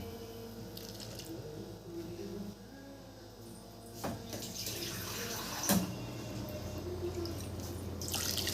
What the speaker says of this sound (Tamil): இது கூட கொஞ்சம் தண்ணி போட்டுக்கலாம்.